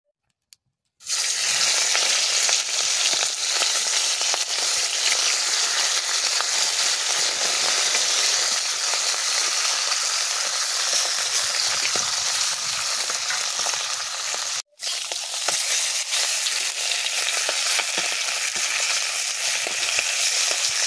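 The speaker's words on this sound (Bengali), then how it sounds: "মাছগুলো এবার ভেজে নিচ্ছি" Small pond-caught phalui fish fried in hot oil in a pan in a village kitchen, giving a loud, steady, close hiss and sizzle that runs for about twenty seconds with a momentary break, no voices.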